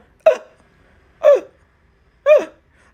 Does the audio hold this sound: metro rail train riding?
no